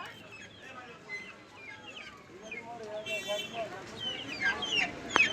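Chickens and roosters being sold for donation at Pagla Mosque in Kishoreganj cluck and squawk in a busy, layered crowd of calls. People talk in the background, and the birds grow louder toward the end.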